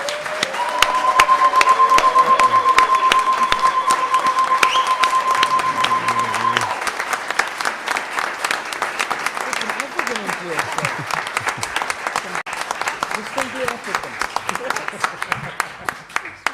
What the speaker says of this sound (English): Could we just give a round of applause for all the present and absent speakers of 2010?